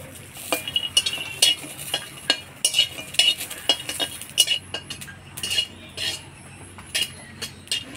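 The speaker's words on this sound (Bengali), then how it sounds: "প্রথমে আমি কাঠখোলায় কাঁচা লঙ্কা, কালো জিরা আর রসুন ভাজে নেব" Green chillies, garlic and black cumin dry-roasting in a pan, heard as repeated clinks and scrapes of a utensil stirring against the pan with a faint sizzle underneath, no talking.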